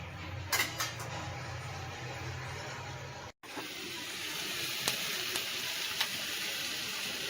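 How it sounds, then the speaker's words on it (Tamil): Tomatoes sautéing in a pan make a steady, soft sizzle that runs throughout, with a few faint clicks and a brief dropout partway through. "தக்காளி நல்லா வதங்கிடுச்சு"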